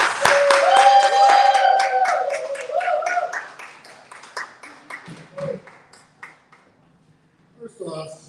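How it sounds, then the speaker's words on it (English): Scattered claps from an audience at a live book event rise in a short burst and thin out to isolated claps, alongside a sustained tone and some background talking. "A round of applause."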